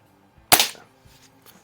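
A 1970 Crosman M1 carbine BB gun fires a single sharp, close crack that fades quickly, leaving near-silence.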